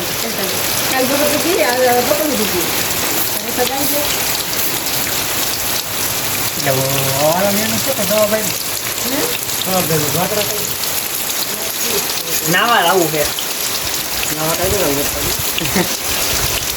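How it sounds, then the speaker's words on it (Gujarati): Steady rain patters and hisses throughout while people talk over it at close range. "વરસાદ શરૂ થઈ ગયો"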